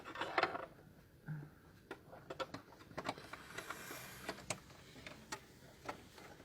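Sewing machine presser foot being unscrewed by hand, a string of small, light metallic ticks and clicks at an irregular pace, close and quiet, with no talking.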